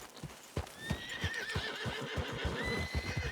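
A horse in Red Dead Redemption 2 whinnies with a long, wavering neigh over steady clip-clop hoofbeats, close and clear, with no talking.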